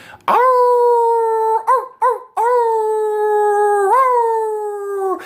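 A human voice imitates a dog howling, sustaining long wavering howls broken into several short segments, loud and close.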